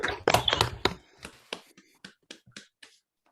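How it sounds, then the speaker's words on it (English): Scattered handclaps at a graduation ceremony for School of Management graduates, a quick flurry of crisp close claps that thins into a few isolated, fainter claps before falling silent. "give another round of applause to our esteemed graduates"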